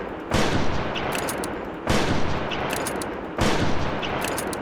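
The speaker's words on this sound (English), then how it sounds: "let me just quickly reload this and show you how quick the fire rate is" Rapid automatic fire from a weapon in the hunting video game Prehistoric Hunt, heard as three loud, dense bursts of continuous shots, each lasting over a second with brief gaps between, alone and close.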